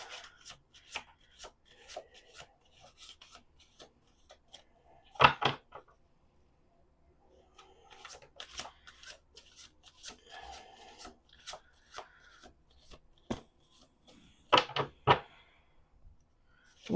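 Tarot cards riffle and slap in bursts, crisp rapid ruffling followed by sharp taps as the deck is squared, repeated with short pauses between.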